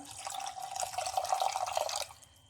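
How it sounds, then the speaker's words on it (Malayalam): Water pours steadily into a fish curry pan for about two seconds, a bright splashing trickle that stops abruptly. "കുറച്ച് വെള്ളം കൂടി ഇതിലേക്ക് ഒഴിച്ചു കൊടുക്കാം"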